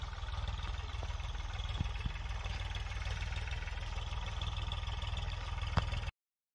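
A tractor engine idles continuously with a steady, low, even rumble, with a couple of faint knocks along the way.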